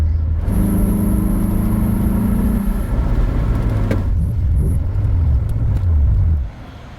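A nearby MG F sports car engine revs up with a high whine, then settles into a burbling idle that rises and falls before fading.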